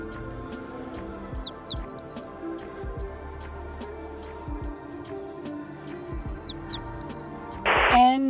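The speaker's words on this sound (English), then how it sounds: "they play bird sounds in restrooms in public places." Recorded birdsong piped into a public restroom in Portugal, with repeated bright chirping phrases at moderate volume over a low background hum, closing with a brief burst of noise.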